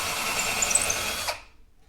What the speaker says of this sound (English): Now we'll just reverse the drill,